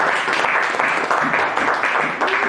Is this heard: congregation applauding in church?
yes